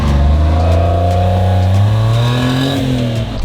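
An AMG truck's engine revs hard, its deep harmonic roar rising steadily in pitch over a few seconds, loud and close with no voices.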